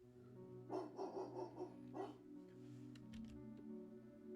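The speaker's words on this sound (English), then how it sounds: "He hears faintly the sound of barking and echoes of people yelling in the distance." A dog barks several times in quick succession at a distance, then falls quiet, with faint clatter and a low hum behind it.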